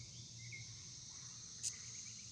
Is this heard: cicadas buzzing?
yes